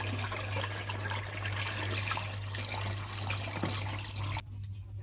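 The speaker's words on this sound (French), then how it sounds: "nous allons le verser dans la cuve de fermentation" Grape must for homemade natural wine poured steadily into a fermentation vat, a continuous close liquid gush and splash under a low hum, cutting off abruptly near the end.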